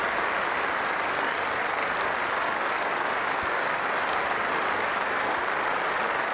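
A cricket crowd at Lord's gives a standing ovation during the 2002 England versus Sri Lanka Test, a continuous wash of distant applause held at an even level throughout.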